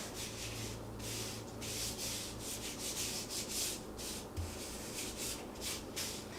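A hand rubs olive oil and seasoning into tri tip meat, giving soft, close, repeated wet swishing strokes in a steady back-and-forth rhythm, with no talk.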